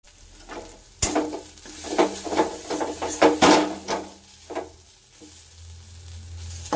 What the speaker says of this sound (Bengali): দেখুন ভাজতে ভাজতে এরকম হয়ে গেছে, কড়াই থেকে উঠে আসছে।